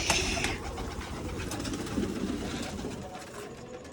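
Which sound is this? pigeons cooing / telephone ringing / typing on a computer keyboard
pigeons cooing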